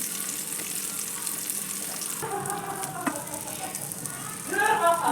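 Food frying in coconut oil in a pan makes a steady, close sizzle with occasional light clatter and stirring.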